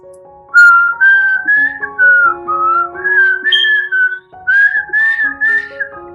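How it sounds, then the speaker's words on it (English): Someone whistles a simple, clear melody of Baa Baa Black Sheep up close, note by note with short breaks between phrases, loud and solo. "Now I have to whistle."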